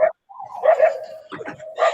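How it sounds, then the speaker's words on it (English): A small yippy dog gives a quick run of high, sharp barks and whimpering yips, fairly close and loud, with short gaps between bursts. "What is that, a little yippy dog?"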